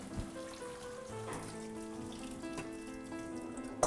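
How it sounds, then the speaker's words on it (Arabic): Water drains from boiled meatballs poured into a metal colander, with a continuous trickling splash, scattered drips and small clinks of metal, ending in a sharper clatter. "منبردها بنحطها بمصفاية، المي ما بنستعملها"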